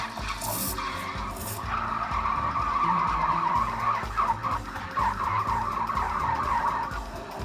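An espresso machine's steam wand heats milk in a jug with a continuous, close hissing screech and gurgle that holds steady throughout.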